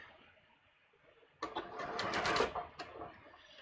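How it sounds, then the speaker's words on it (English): A sewing machine stitches a narrow rolled hem turned up an eighth of an inch, a quiet start building into a steady, fairly close whir that tapers off. "So we're just turning it up 1/8 of an inch and stitching it down."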